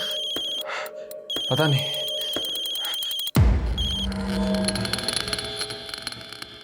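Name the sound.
phone ringing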